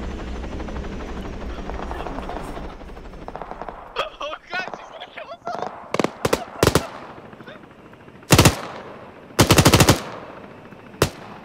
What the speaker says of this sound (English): Got a machine gun.